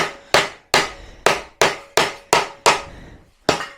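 A hammer drives tight wooden dowels into furniture joints with eight sharp, evenly spaced blows, each ringing briefly before the next, close and loud, with a short pause before the final strike.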